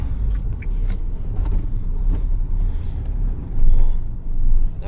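A long-haul truck rolls into a parking lot, a continuous loud engine rumble from inside the cab with bumps and clatter, swelling briefly near the end.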